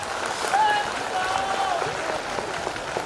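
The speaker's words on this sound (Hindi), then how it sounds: "जोरदार ताली बजा के स्वागत करो।" Audience applause at a mass wedding event for 251 brides in Madhya Pradesh, India: steady, dense clapping throughout, with faint voices and whistles mixed in.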